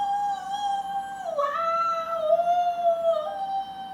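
A human voice imitates a coyote's howl, a long sustained wavering cry that dips and rises in pitch, sung loudly and alone.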